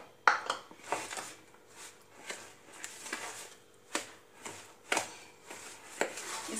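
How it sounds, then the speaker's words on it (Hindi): A spoon works through semolina batter in a mixing bowl as curd is added, giving repeated soft scraping and tapping strokes at a steady, slightly uneven rhythm, close and fairly quiet. "दही हम थोड़ा थोड़ा ऐड करेंगे, इसे मिक्स करते जाएंगे"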